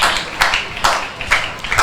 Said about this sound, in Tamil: அவங்களுக்கு ஒரு கைத்தட்டல் கொடுங்க.